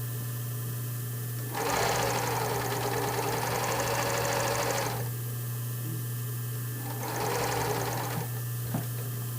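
A sewing machine basting a brief's crotch seams runs in two bursts, a longer stitching run and a shorter one after a pause, over a steady low electrical hum.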